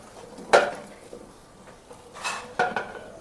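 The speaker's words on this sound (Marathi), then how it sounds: "आता मिक्स करून घेऊया, मसाले भाजून घेऊ पहिले" A metal spoon scrapes and clinks against a cooking pan while spices are mixed and roasted, two sharp bursts of clatter separated by quieter stirring, with no voices.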